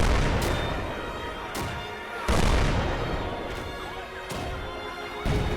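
Artillery shelling in the Combat Mission war game: a series of heavy, booming impacts about a second apart, each a sharp crash followed by rumbling debris, loud and fairly close, with no voices.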